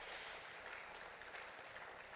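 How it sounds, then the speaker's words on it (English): A brief burst of audience applause at a real estate conference, dense steady clapping from a crowd at moderate distance, no voices. "let's just give that person a round of applause for all they've been through and all they've accomplished"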